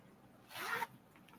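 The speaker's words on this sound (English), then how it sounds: "It's got a zipper on the inside." A single short zip on a leather envelope bag, a quick quiet rasp lasting about a third of a second against near silence.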